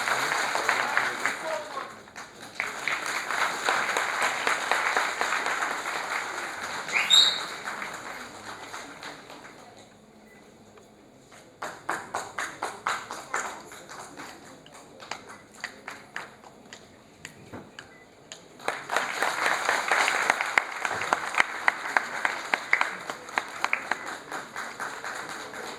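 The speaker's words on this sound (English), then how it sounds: "You can give them a big hand of applause." An audience at an award presentation during a 2019 Buddhism and minority awareness programme applauds in sustained waves, the clapping fading into scattered claps before rising again, loud and roomy.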